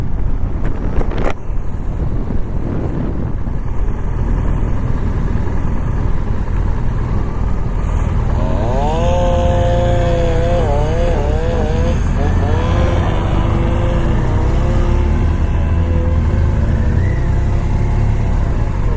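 A 2018 BMW R1200RT motorcycle rolls to a stop, engine note dropping under heavy wind rush at the microphone, with a rising and falling whine midway and steady road and wind noise throughout.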